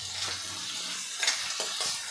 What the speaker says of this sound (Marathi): कांदा मऊ होईपर्यंत छान असा आपण परतून घेऊ।